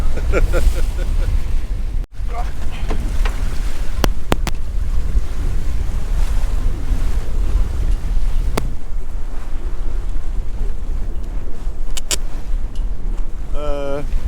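Wind roars and waves slosh around a sailboat straining in rough Mediterranean water off Greece, with loud gusts, thumps and creaks, and a voice speaking briefly.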